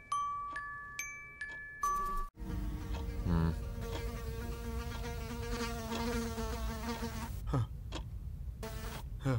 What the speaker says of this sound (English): Pesky bee.